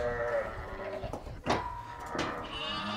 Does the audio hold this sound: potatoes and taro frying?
no